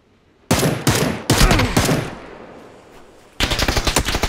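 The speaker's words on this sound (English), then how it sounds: "That suppressive fire worked quite well." Suppressive gunfire in PUBG, loud close bursts of rapid automatic shots in two clusters separated by a short lull, then a final sustained burst.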